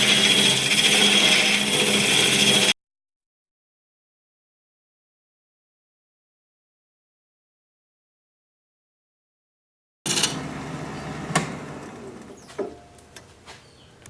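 A gouge on a wood lathe cutting carefully into the bark edge of a wooden bud vase: a loud rough cutting burst, a long silent gap, then the cutting resumes with scraping and light taps.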